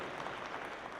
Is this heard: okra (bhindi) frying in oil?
no